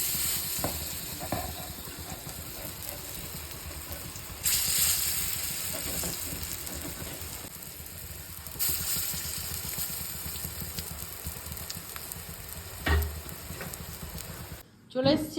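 Thick potato and drumstick leaf fritters frying in oil, with a steady close sizzle and crackle throughout, swelling briefly at moments with stirring or added batter.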